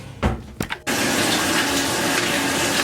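Bath water pours from a tap into a tub for a toddler's bath, a loud steady close rush beginning after a couple of brief clunks and splashes.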